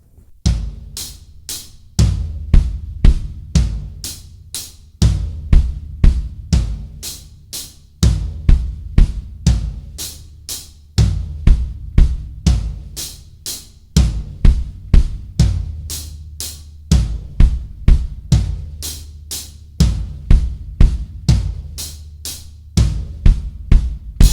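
A repeating drum groove with sharp hi-hat hits over booming floor tom and kick strokes, played in a steady looping pattern, loud and close.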